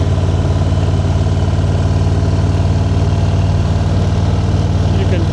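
A motorcycle engine idles nearby with a loud, steady, even throb that stays unchanged throughout, with no clear talking over it.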